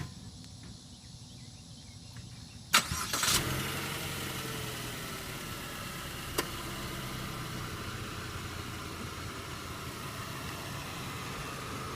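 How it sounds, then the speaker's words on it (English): A 2014 Chevrolet Sonic LTZ Turbo engine cranks and catches with a sudden loud start, then settles into a steady idle hum that continues for several seconds, recorded close with no talking. "Now let's start up the engine"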